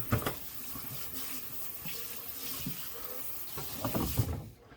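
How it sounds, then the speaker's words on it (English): Cold tap water runs and splashes over a rack of baby back ribs in a kitchen sink, a steady close rush with uneven spattering bursts as the meat is turned front and back, ending abruptly. "I'm gonna rinse these ribs off with some cold water, front and back."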